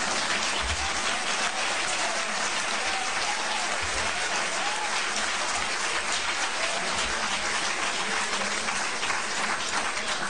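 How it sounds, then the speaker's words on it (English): Sustained applause from an audience of press and guests at the National Press Club fills the room, a loud, dense clapping that continues steadily without talk. "we had one or two working press clap along with the non-working press"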